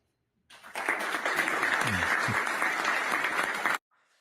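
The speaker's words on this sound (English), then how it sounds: "Hey, you got a standing ovation there." Audience giving a speaker a standing ovation, steady sustained applause that starts and stops abruptly, with a faint voice briefly under the clapping.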